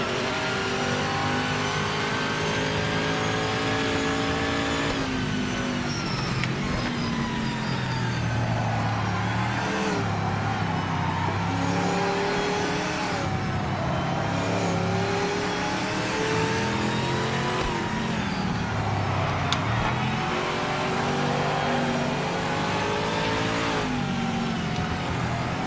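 Racing video game with GT Icons cars lapping a track: engines rev hard and shift through gears in repeated rising sweeps, with occasional tire squeal, loud and continuous without talk.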